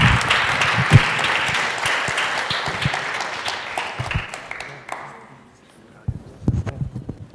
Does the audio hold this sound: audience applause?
yes